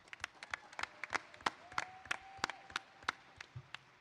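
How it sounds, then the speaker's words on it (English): An audience at a boxing press event in Detroit breaks into applause, with scattered, uneven claps from a modest crowd rather than a full roar, carrying steadily for a few seconds. "Let's give her a round of applause."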